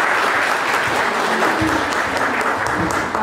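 Sustained applause from an audience bidding farewell to a speaker after a lecture at a judicial auxiliaries training school, a steady dense clatter of clapping that fills the whole stretch without pause.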